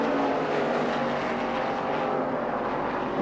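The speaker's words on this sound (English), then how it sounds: "it's obvious his car's got a little more grunt than Graham's car" NASCAR race cars at the Moomba Spectacular race roar past on the track as a loud, continuous wall of engine noise, close and steady throughout.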